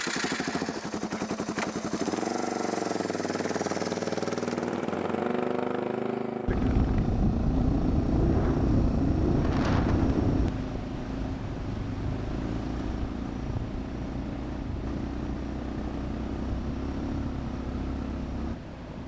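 A Suzuki motorcycle rides along a road in Scotland, its engine revving and climbing at first, then settling into a steady rumble with wind noise, close and moderately loud throughout.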